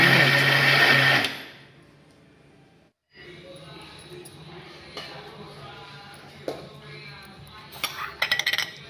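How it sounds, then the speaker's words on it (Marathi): A kitchen mixer grinder runs in a loud, close burst that cuts off after about a second, followed by quieter clinks and clatter of dishes and utensils. "मिक्सरमध्ये बारीक करून घ्यायचं"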